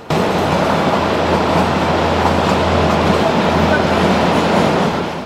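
A toy train on the Kalka–Shimla mountain railway rumbles steadily along the rails, a loud continuous low roar with faint rattling, heard from on board.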